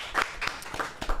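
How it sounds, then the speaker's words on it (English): A few quick hand claps sound in a podcast studio, quiet and evenly spaced over about a second. "clap it up, clap it up"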